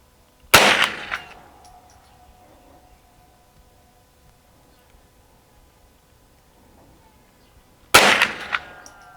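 Two sharp .22LR rifle shots from a Winchester Wildcat on a shooting range, fired about seven seconds apart, each a loud crack with a short ringing tail and near-silence between them.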